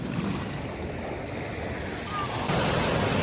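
Ocean surf on Waikiki beach in Hawaii, a steady broad wash of waves at the shoreline with some wind, growing slightly louder toward the end, with no talking.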